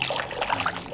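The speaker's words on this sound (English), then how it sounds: "In another bowl, add 1 part wine." Wine being poured from a container into a bowl for a spiced drink, a short steady trickling splash of liquid heard close up with no talking.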